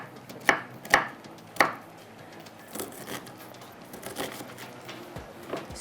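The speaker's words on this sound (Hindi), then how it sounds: "प्याज को हम इस तरह से कट कर लेते हैं और आराम से इसको क्या करेंगे" A knife chops an onion on a board: three crisp, close cuts in quick succession, followed by softer, scattered taps and scraping.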